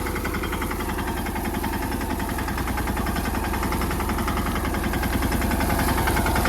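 A mini tractor engine runs steadily and loudly while digging groundnuts in a field, with a dense, continuous mechanical drone and faint rhythmic knocking throughout, no pauses.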